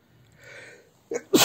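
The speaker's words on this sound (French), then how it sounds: "attendez, je vais éternuer." A single sharp human sneeze bursts out at the end after a brief breathy intake, close and loud in a quiet room.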